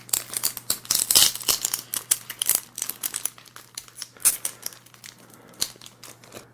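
A Panini Fortnite trading card pack being pulled open by hand without scissors, a close, loud run of crinkling foil and plastic wrapper with sharp tearing bursts, steady and busy throughout with brief pauses.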